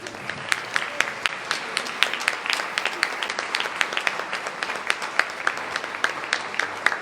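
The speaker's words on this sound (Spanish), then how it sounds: "mientras ustedes les dan un fuerte aplauso, por favor" A church audience applauds steadily for several seconds, with dense, sharp claps at moderate distance.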